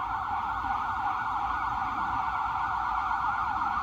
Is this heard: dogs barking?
no